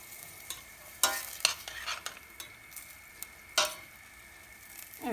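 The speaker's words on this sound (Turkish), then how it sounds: "Onu sıvı yağ ile birlikte kavurmaya başladım." Minced meat with chopped onion and green pepper frying in oil in a pan, sizzling steadily while a utensil stirs and scrapes in several sharp bursts, close and clear with no talking.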